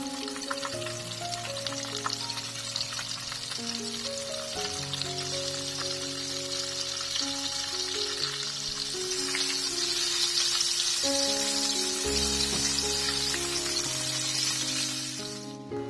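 Squid fries in oil, sizzling steadily with faint crackles and small pops throughout, while soft background music plays underneath.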